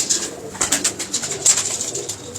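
Pigeons in a loft of champion birds in Lahore coo close by in soft, repeated pulses. Light rustling and fluttering come from the loft, and no one speaks.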